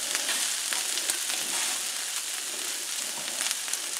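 Steak and onions sizzle steadily on a hot griddle, a bright, constant frying hiss with small crackles and pops, close up and without voices.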